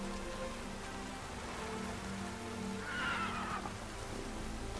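Steady rain in the video game The Witcher 3 patters across the whole stretch, with a horse whinnying briefly near the middle over the wet backdrop.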